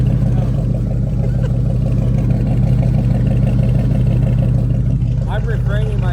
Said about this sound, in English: The whole bed is rattling. Every little piece is just rattling.